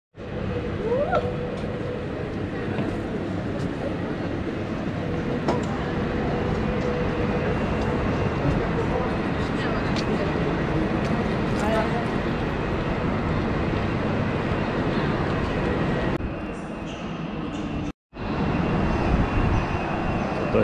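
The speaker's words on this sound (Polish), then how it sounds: "Dojechałem do Wrocławia tym pociągiem. Fajny komfort jazdy, naprawdę." Intercity passenger train running between Łódź and Wrocław, heard from inside as a steady, loud rumble and rolling noise that continues throughout, with a brief dropout near the end.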